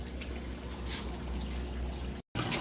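Water trickles and drips into a container holding live crayfish during acclimation, a faint, steady patter close by with scattered individual drops and a brief break near the end.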